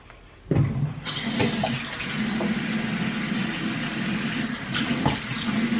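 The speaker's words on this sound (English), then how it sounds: "So I'm just gonna, wash my face" A bathroom tap switches on and water pours steadily into a sink for face washing, a loud, continuous close-up gush with small splashy fluctuations and no talking.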